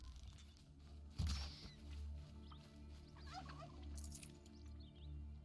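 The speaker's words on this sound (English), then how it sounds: "Turkeys. There's a lot of turkeys here." Turkeys gobble faintly in the game Horizon Zero Dawn, with a few soft, scattered calls over a quiet, constant ambient bed.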